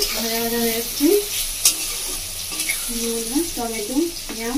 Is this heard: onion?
yes